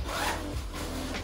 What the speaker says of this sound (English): it has the zippers that goes all the way around the neck